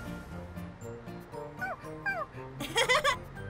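A cartoon puppy in Tayo the Little Bus whimpers in a run of high, wavering whines that turn into sharp yips and a quick burst of close, loud barks near the end, with a soft tonal backing underneath.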